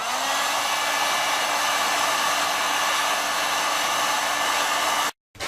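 A heat gun blows a steady, loud whooshing roar while heating the ends of white PVC pipe, running continuously for about five seconds before cutting off abruptly.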